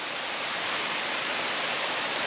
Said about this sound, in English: Another wonderful waterfall there.